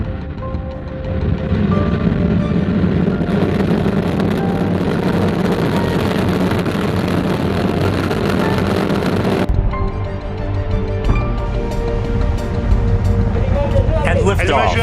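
Rocket engines ignite and roar at the James Webb Space Telescope launch from a tropical rainforest site, a loud broadband rumble that builds and holds, then cuts away to quieter sound with voices over it.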